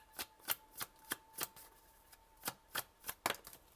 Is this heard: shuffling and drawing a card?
yes